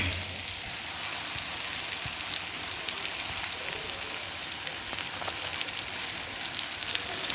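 Ghosavale, a ridge-gourd-type vegetable, sautéed in a pan, with a steady even crackling sizzle that sounds like light rain, continuous and moderately quiet throughout.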